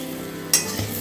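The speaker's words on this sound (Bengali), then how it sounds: "বেগুনটাকে এইভাবে কিন্তু ভেজে নিতে হবে" Brinjal slices fry in hot oil, giving a steady close sizzle with one sharp crackling burst midway and a soft clatter near the end.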